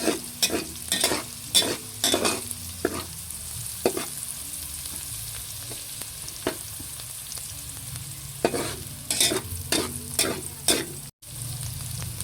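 Chopped onion sautéing in a hot pan for chicken menudo, a steady sizzle with repeated scraping and stirring strokes from a utensil, close and fairly loud, no talking.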